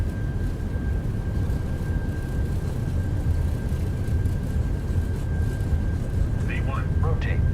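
A PMDG Boeing 737 rolls for takeoff in Microsoft Flight Simulator 2020, with a steady, loud engine roar and a thin constant whine that hold throughout, and a brief voice near the end.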